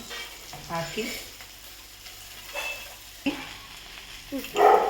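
Sliced okra tipped into hot oil sizzles and fries in a pan while being stirred. The hiss swells at the end, and a voice speaks briefly near the start.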